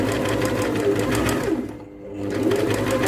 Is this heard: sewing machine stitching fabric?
yes